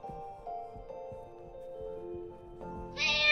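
A pet cat perched on a person's shoulder gives a series of close, drawn-out meows, each one rising and falling, ending in a brighter, louder call.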